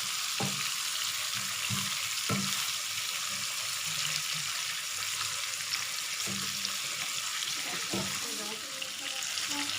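Chicken pieces fry for shahi korma in a pan, a steady hiss of sizzling oil throughout, with occasional low knocks of a spoon stirring.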